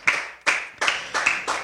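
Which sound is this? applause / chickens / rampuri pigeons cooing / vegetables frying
applause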